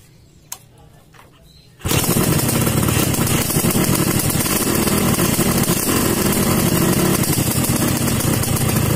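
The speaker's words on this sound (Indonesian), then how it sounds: "Oke, motornya sudah hidup dan sekarang kita lihat dan kita dengar suara mesinnya ya." A Yamaha RX-King two-stroke motorcycle engine, freshly fitted with a new cylinder block, starts after a quiet moment and keeps running loud and steady, a close, even idle that continues to the end.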